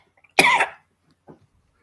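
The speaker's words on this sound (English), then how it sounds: "He immediately starts to cough." A man in a radio drama breaks into a loud, harsh cough right after sipping liquor: one strong burst of rough hacking, then a single faint follow-up cough a moment later, against otherwise quiet background.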